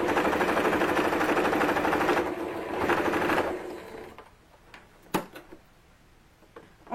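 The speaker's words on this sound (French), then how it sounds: "Donc je vais venir faire une couture à 1 cm." A sewing machine runs steadily for about four seconds, sewing a 1 cm seam on a ruffled dress, then stops, followed by a few light clicks and handling noises.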